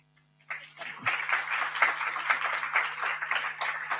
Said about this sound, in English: So I'm going to ask you to put your hands together for Delia